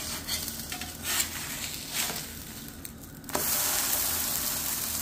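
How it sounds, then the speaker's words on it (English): A spiced pumpkin pancake flipped in a frying pan: stirring and scraping noises give way to a sudden, steady frying sizzle that swells and holds, close and moderately loud. "All right, I think it's time to flip it."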